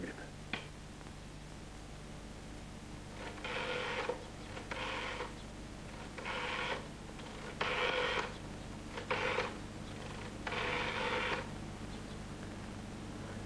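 A telephone rings indoors in a series of short, evenly spaced bursts, fairly faint against a low steady background hum, with no talk during the rings.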